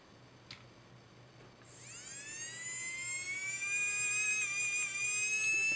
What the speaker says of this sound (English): you can see the motor's running and then stopping